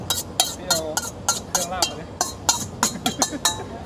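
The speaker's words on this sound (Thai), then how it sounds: "เดี๋ยวรอบนี้เขาจะผัด" Stir-frying in a pan while cooking pork kaphrao: rapid, rhythmic metal scraping and clinking of a spatula against the pan, a dozen sharp strokes in quick succession, close and fairly loud.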